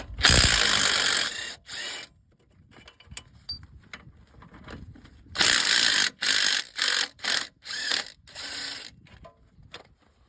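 Ratchet wrench loosening the lower 15 mm strut bolts on a 2015-2020 GM Cadillac Escalade with magneride electronic struts, heard as bursts of close, loud rapid clicking with short pauses between strokes.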